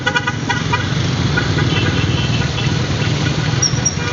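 Dense highway traffic near a Tarlac mall, with running car engines and repeated horn toots sounding close and loud over a steady roar, with no talking.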